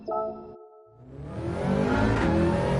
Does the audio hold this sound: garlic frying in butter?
no